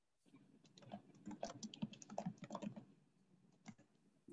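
Rapid typing on a computer keyboard during a Git and GitHub tutorial, a faint close burst of irregular key clicks lasting about three seconds with a couple of final taps.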